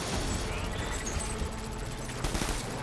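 Dense gunfire in Death Stranding, a sustained fusillade of overlapping shots blending into a loud continuous roar of combat noise.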